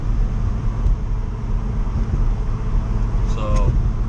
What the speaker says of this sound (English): my drive shaft is pretty loud. I can hear the diff. It's like a metally kind of rotating sound.